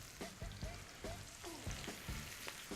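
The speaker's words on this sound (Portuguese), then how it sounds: "Vou pegar um alho poró e vou colocar ali para ver a temperatura. Olha aí, ó. Começou a fritar" Leek pieces frying in hot oil make a steady, fairly faint crackling sizzle, with a few soft knocks and scrapes dotted through.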